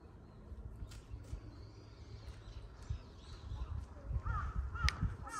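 A crow caws in a park in Japan during a cherry-blossom season walk, a few harsh calls standing out over steady outdoor ambience and low rumble.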